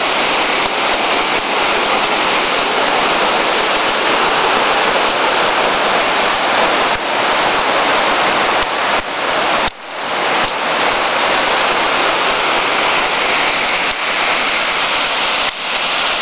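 Waterfall at Ferrera di Varese roaring steadily as a loud, dense wash of falling water, unbroken for the whole stretch apart from one brief dip near the middle.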